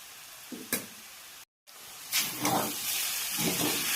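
Sabudana khichdi with fried potato, crushed peanuts and salt is stirred and sautéed in a pan. A few soft stirring knocks and a brief silent gap give way to a steady, close hiss and sizzle.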